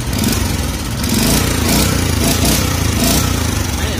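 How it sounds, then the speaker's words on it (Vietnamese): Small engine of a used Japanese-import tiller running steadily nearby, a continuous loud chugging drone with rapid regular firing pulses throughout and no speech. "Máy nổ ngọt lắm."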